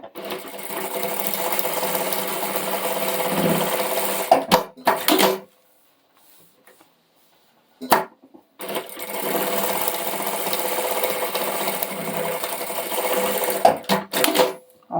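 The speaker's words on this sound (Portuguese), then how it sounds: "você vai passar uma costura pé de máquina aqui" A sewing machine runs a seam in two long, steady bursts of rapid mechanical stitching, close and loud, separated by a pause of near silence, with short clunks as the fabric is adjusted.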